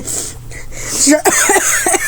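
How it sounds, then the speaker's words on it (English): A man coughs heavily after swallowing spit the wrong way, several harsh bursts close to the mic, the later ones coming in quick succession. "I started coughing heavily"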